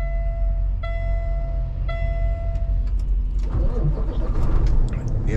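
A truck drives slowly along a road with a loud, steady engine rumble and road noise. A few short tonal beeps sound early on, and the rumble grows rougher toward the end.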